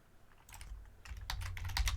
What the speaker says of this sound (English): I can hear typing.